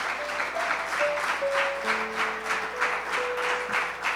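A church congregation applauding during a Spanish-language service, with steady rhythmic clapping and sustained keyboard notes held underneath.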